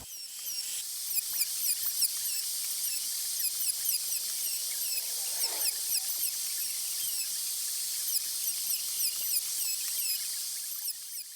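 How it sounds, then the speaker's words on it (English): A router clamped to a plywood base whines steadily at high pitch while cutting boards, a continuous piercing shriek with faint ticks underneath. "that's just a piece of plywood that I mounted the router to, and I just clamp it down to those boards"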